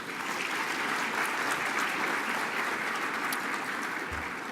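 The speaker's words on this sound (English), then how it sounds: "Let's have a round of applause for Reverend Dennis." Sustained audience applause at an awards gala, a steady dense wash of clapping from a large crowd that holds evenly for several seconds with no voices over it.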